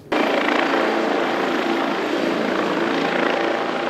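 An Airbus H160 helicopter flies a demonstration display at Marignane, its rotor and turbine making a loud, steady, close roar that holds continuously throughout, with no voices.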